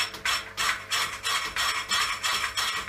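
A milling machine skims rust off a brake drum, giving rhythmic scraping cuts that repeat about twice a second with a metallic ratcheting edge, close and moderately loud.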